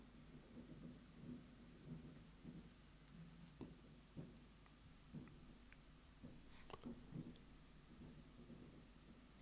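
Fireworks bursting on New Year's Eve in the rain, heard from the outskirts of a town about 2.5 miles away: scattered faint, distant booms and pops in an irregular rhythm over a low rumble.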